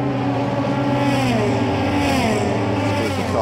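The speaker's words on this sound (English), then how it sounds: "Cars now hurtle past us on towards the Rettifilio." Euroformula Open race cars at Monza during 2017 qualifying scream past in a close train, with loud, sustained engine howls overlapping and sweeping in pitch as they flash by.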